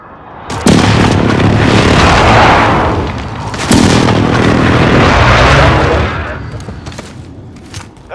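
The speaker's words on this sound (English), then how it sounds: "Be advised, friendly precision airstrike inbound." Loud, close explosions from a precision airstrike in the video game Call of Duty: Modern Warfare: two heavy booms with long rumbling roars, then fading crackles and debris.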